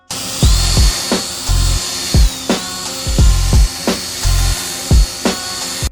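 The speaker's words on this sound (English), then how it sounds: "we're going to start with 500 grit sandpaper on the sanding disc with the drill" A handheld drill spins a 500 grit sanding disc against a yellowed Subaru headlight lens, a loud steady whine that repeats in short bursts with brief pauses and thumps as the disc is lifted and pressed again.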